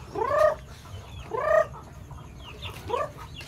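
Chickens fed leftover rice let out three close, distinct clucking calls in a loose rhythm, with faint background noise between them.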